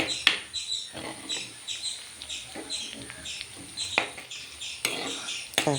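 Tamarind is sautéed in a pan for a fish curry, a metal spoon scraping and clinking against the pan in irregular strokes, close and fairly loud, with birds chirping faintly outside.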